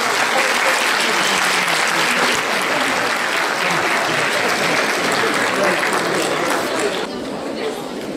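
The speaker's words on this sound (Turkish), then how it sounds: "alkışlardır" A large audience at a formal speech event applauds continuously and loudly, a dense sustained clapping that barely fades toward the end, with faint crowd chatter underneath.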